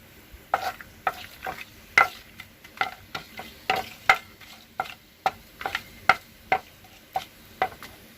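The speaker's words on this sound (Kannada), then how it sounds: "ಇವಾಗ ಎಣ್ಣೆ ತುಪ್ಪ ಎರಡನ್ನೂ ಸೇರಿಸಿರೋದನ್ನು ಹಾಕ್ತಾಯಿದ್ದೀನಿ ನೋಡಿ" Whole spices dropped into hot oil and ghee, sharp crackling pops and sputters at irregular intervals over a quiet background, close and distinct.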